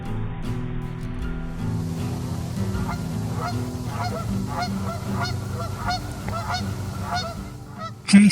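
A goose honks repeatedly while chasing a small duck at a forest lake, the calls steady and fairly close over a constant wash of water and wind.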